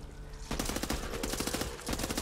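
Tech 9 and MP5 gunfire in the Back 4 Blood video game, a dense, continuous stream of rapid automatic shots, loud and close, rattling on without pause.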